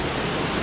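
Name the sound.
wind at a waterfall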